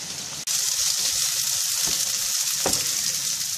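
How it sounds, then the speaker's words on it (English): Chopped onions sizzle steadily in a hot pan as they soften and brown. The hiss is loud and continuous, with a few soft stirring scrapes and clunks and no talking. "we're just going to soften the onions and they'll probably go brown"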